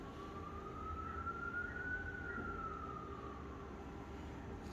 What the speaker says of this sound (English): I wonder if those sirens going by were a fire truck.